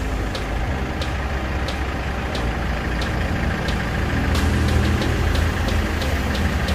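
Used Kia Bongo III or Hyundai Porter II truck, manual 5-speed 4x4 with turbo intercooler, idling nearby with a steady low rumble and faint regular ticking, no talk.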